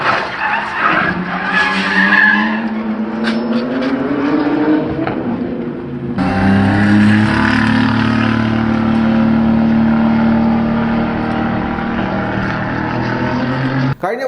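Racing car during practice in Dubai losing control and striking a wall, heard as a loud sustained tire skid and engine roar with a sharp change midway, continuing steadily to the end.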